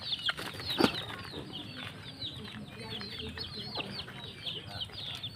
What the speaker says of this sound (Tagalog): Oh, nangunguna na ang mga manok.